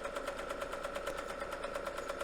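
A Sankyo Super 8 film projector runs in slow-motion mode with a steady, rapid mechanical clatter and a faint rhythmic knock, quiet and close with no voices.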